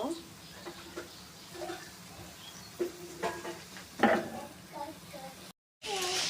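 Spices frying in a pan for a pointed gourd (potol) bhuna curry, stirred with a low background sizzle, a few scraping and clinking stirs, and a faint voice nearby.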